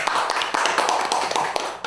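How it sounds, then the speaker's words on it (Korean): Applause from a seated crowd at a Seoul city party members' gathering, as a veteran lawmaker is welcomed onstage: dense, steady clapping with a few sharper hand claps, fairly close and sustained throughout. "박수로 맞아주시기 바랍니다"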